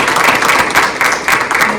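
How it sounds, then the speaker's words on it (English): Audience applause at a funding announcement for projects, a steady wash of many hands clapping close and fairly loud throughout, with no voices over it. "I think we owe them a round of applause for all of this."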